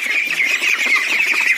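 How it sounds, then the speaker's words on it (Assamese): A flock of 41-day-old ducklings on a small farm calls together in a dense, continuous chorus of loud, close squawks and quacks, with no talking over it. "41 ডেজত মোৰ হাঁহৰ পোৱালিবিলাক আপোনালোকে চাওক"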